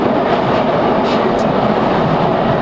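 A loud, steady roar of a London Underground Jubilee Line train rushing through a tunnel between Wembley Park and Baker Street, dense rumbling noise with faint rattling, no voices.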